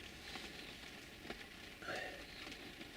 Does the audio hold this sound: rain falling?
yes